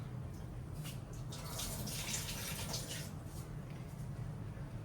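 Water runs steadily from a tap into a pot of lentils being washed for sambar, a continuous splashing hiss with no talk over it.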